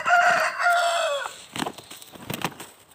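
A rooster crows once, loud and close, a drawn-out cock-a-doodle-doo, followed by a few softer clucks and scuffling among the fighting birds.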